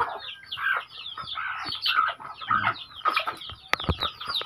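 Several native chickens cluck and chatter nearby in a busy, overlapping flurry of short calls, with a few sharper bursts and light knocks toward the end, and no one speaking.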